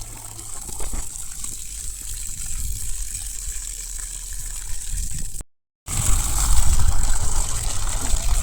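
Steady rushing water flows continuously, fairly loud and close, with a brief dropout partway through before it resumes stronger.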